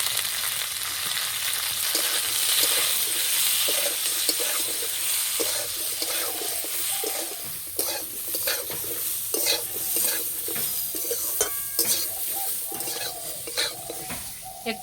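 Slit green chillies with salt and turmeric fry in a pan, a constant bright sizzle broken by repeated close scraping stirs, with a faint water-tap hiss behind.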